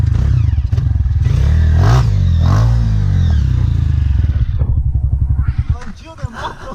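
A Honda CRF250F dirt bike engine revs hard and loud while stuck on a rough trail, the pitch rising and falling in surges, with people talking over it and scraping clatter near the end.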